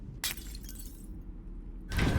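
A glass torch shatters under an enchanted hammer in a hidden-object adventure game. A brief crack comes first, then a quiet pause, and a louder, fuller breaking crash closes it.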